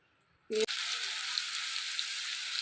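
Eggplant pieces dropped into a hot pan that has just fried dried red chillies, a brief clatter followed by a loud, steady sizzle and crackle that fills the rest of the moment close up.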